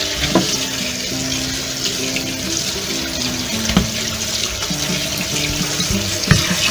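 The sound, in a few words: washing purslane under running tap water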